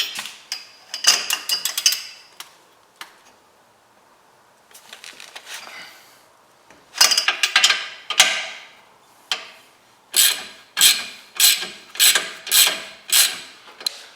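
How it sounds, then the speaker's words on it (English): A wrench ratchets on a suspension bolt of a 2022 Toyota GR86 during a coilover install, giving bursts of quick, close metallic clicks with pauses between them, and the strokes get more regular toward the end. "I'm going to start by removing this bolt here."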